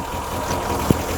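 A Mazda Miata engine idles nearby in a steady low rumble with slight vibration, broken by one brief knock near the end.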